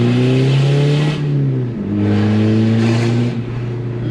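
A VW Polo TDI diesel engine revs up loudly and close, pitch climbing, dropping back and rising again in repeated smooth pulls.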